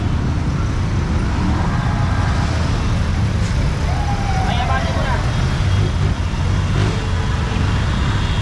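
Street traffic streams past along Recto in steady, dense road noise, with engines rumbling and occasional horn-like tones. A voice talks throughout over the traffic.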